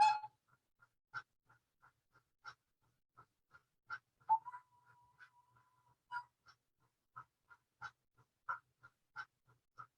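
A model train's sound decoder sounds a whistle, with one long steady tone near the middle among short chuffing and clicking blips that repeat in a steady rhythm throughout, quiet and close.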